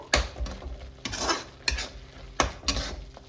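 Chicken masala frying and being stirred in a pan, bursts of sizzle rising with each sweep of the spoon and a few sharp metal knocks between them.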